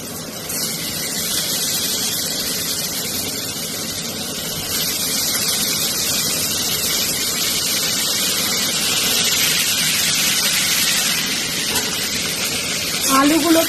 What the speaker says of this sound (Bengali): আলুগুলোকে একটু হালকা ভেজে নেব, 2 থেকে 3 মিনিট।